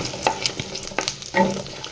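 Spices crackle and spit in hot oil while tempering for cauliflower kurma, with a few sharp pops and stirring scrapes, close and fairly loud.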